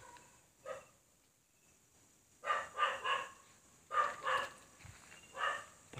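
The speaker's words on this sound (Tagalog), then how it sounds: "Sobrang ingay ng paligid kasi may aso" A dog barks several times in quick bursts, a single bark followed by clusters of two or three, moderately distant against a quiet outdoor background.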